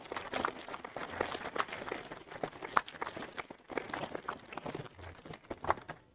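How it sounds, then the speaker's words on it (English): Audience applause at a spring NROTC commissioning ceremony in San Diego, a steady crackling patter of many hands sustained evenly throughout, moderately distant in a large room. "a round of applause for all of you for bringing them here today"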